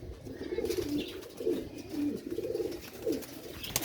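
Pigeons kept on a rooftop coop by an old breeder, offered for sale, coo in several soft, rolling bursts spaced about half a second apart, fairly close, with no talk over them.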